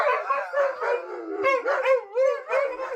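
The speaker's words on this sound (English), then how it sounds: "the sound of the saw caused the dogs to sing the songs of their people" Dogs howling in a wavering, musical chorus, with several overlapping rising and falling howls close by, set off by a saw running nearby.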